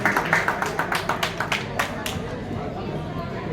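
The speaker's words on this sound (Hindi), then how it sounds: "एक बार जोरदार तालियां" An audience claps at an outdoor political rally, sharp overlapping claps loudest at the start and thinning into general crowd murmur as it fades.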